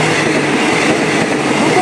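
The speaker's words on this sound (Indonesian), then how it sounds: "Kereta feeder membawa penumpang kereta cepat" A feeder train carrying passengers for the Whoosh high-speed rail line rolls along the rails in a steady, loud rumble with broadband rail noise throughout and no distinct clacks.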